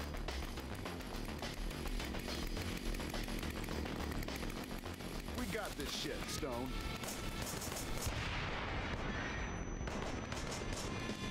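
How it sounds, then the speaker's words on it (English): Dense video game combat in Wanted: Dead, with repeated grenade launcher blasts and gunfire booming under a constant wash of action noise, while a voice talks throughout. "You shot me in the face with a grenade launcher."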